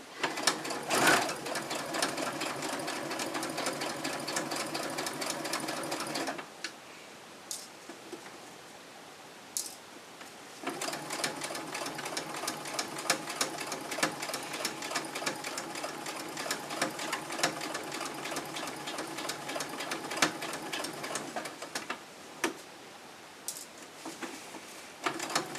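A sewing machine stitches an exposed-core cloth pad with a PUL backer, its fast whirring rattle running in long bursts that pause briefly as the fabric is turned, then start again.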